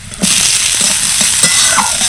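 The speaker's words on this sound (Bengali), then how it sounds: "রসুনগুলো ভাজা হয়ে গেছে এবার দিয়ে দিচ্ছি পেঁয়াজ কুচি" Steady, close-up sizzling of chopped onions frying in oil, with a few soft stirring scrapes and no voices.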